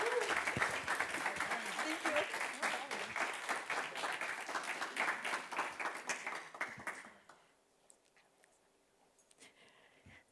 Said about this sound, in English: Round of applause for Pam, please.